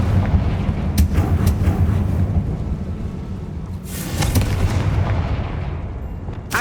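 Repeated fiery Confringo spell blasts from the Hogwarts Legacy video game, booming loud and dense with sharp cracks and a sustained rumbling roar throughout.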